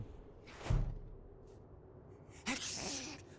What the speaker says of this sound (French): le gars il se met à éternuer